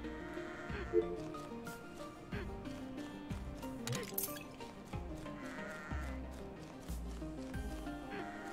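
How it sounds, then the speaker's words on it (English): A black sheep bleats in a video game, a short bleat amid a steady game soundtrack with rhythmic low thumps, fairly faint overall. "there's a black sheep there."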